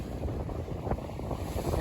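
Wind buffeting a sailboat at sea, loud rumbling gusts across the microphone with faint wave wash underneath, continuous and close.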